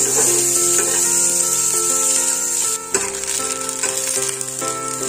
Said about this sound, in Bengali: গাজরটাকে আজকে একটু হালকা করে আগে ভেজে নেব।